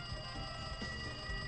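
In Danganronpa 2: Goodbye Despair, a game telephone keeps ringing with a sustained electronic tone, even and moderately loud across a short span, and nobody speaks.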